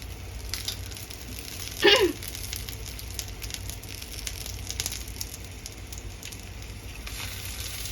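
Salted mackerel grills in a pan, giving a steady, close sizzling hiss with one sharper crackling burst early on and faint scattered pops throughout.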